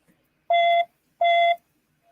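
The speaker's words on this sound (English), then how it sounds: "I was waiting for the alarm to stop going off" An alarm sounds two clean electronic beeps in a row, each about a third of a second long, separated by a short gap, with near silence around them.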